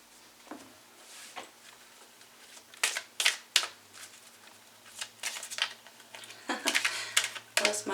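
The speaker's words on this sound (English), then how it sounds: "I don't know if I can't shuffle or if the cards are giving me a hard time" Tarot cards being shuffled by hand, a run of crisp papery riffles and flicks in uneven bursts, close and fairly quiet, with scattered soft handling noises between them.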